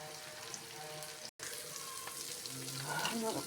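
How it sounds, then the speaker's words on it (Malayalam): Fish frying in a pan gives a steady, broad sizzle throughout, with a brief gap near the middle and a faint clink of utensils toward the end. "മീൻ ഫ്രൈ ഒന്ന് മറിച്ചിടാം"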